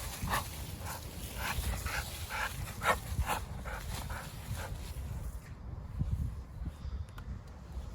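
An XL Bully crossed with a Presa Canario barks and yips in a run of short, regular bursts for the first several seconds, then quiets. Steady outdoor background noise continues underneath throughout.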